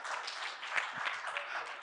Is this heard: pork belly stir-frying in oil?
no